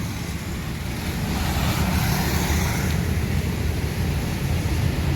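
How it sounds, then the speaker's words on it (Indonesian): A Transport Express Jaya bus, a Padang-route coach, rolls past at a busy Palembang bus terminal, a loud broadband engine and tyre rumble swelling and holding steady at close range. "Transport Express Jaya Tranek melintas, bus Padang."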